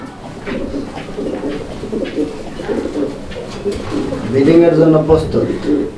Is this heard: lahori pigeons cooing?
yes